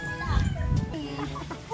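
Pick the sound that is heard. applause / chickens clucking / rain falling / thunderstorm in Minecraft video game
chickens clucking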